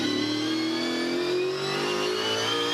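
Onboard at a street circuit, a Toll HRT Holden Commodore V8 Supercar engine drones loud and close. It holds a high note with its pitch slowly rising as the car accelerates, and no one speaks.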